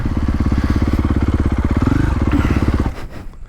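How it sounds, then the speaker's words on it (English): A 2023 KTM 450 SX-F four-stroke dirt bike engine runs close and loud with a steady, fast thumping pulse for nearly three seconds, then cuts away abruptly to quieter rumble. "This engine is nice. That is a fun 450 engine."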